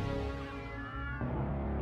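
Several cats meowing in the South Park video game, a sustained tonal yowl that shifts pitch partway through, heard close and fairly loud over the game's background sound.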